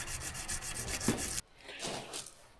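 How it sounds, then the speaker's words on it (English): Rhythmic abrasive rubbing of sandpaper against a steel seax blade, steady back-and-forth strokes that cut off abruptly, leaving fainter, quieter scraping afterward. "here we are a little bit later and still sanding away"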